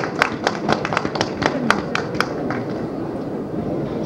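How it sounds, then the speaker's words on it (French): A small group gives brief, scattered applause at a panel debate on a poet's work at a book fair, with sharp individual claps at a moderate distance that thin out after a few seconds. "je vais applaudir Gabriel"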